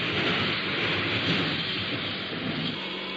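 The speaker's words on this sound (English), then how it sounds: "the sound of rain." Steady rain pours down in a vintage radio broadcast, a continuous dense hiss of falling water at an even, fairly loud level, with no voices present.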